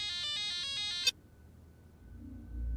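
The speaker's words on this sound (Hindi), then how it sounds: "उनका फोन आ गया" A phone ringtone plays a bright repeating electronic melody for about a second, then cuts off abruptly, leaving quiet low background rumble.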